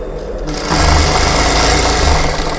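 A tailor's sewing machine stitches a plain blouse, starting up after a brief pause and running in a fast, steady mechanical whir close by.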